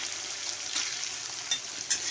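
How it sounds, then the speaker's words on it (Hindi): Potatoes fry in a pan with a soft, continuous sizzle and a few faint clicks of stirring, fairly quiet and steady. "आलू ये देखिए आलू फ्राई हो रहा है अभी।"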